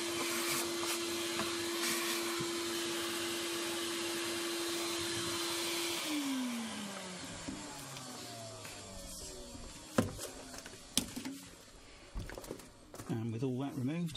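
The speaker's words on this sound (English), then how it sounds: "I'm going to have a quick vacuum all this swarf" A vacuum cleaner sucks up metal swarf inside a Land Rover Discovery 2 TD5, a steady loud whine for about six seconds that then winds down, followed by scattered clicks and knocks.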